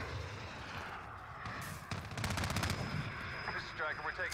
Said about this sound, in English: Mr. Stryker, we're taking some fire.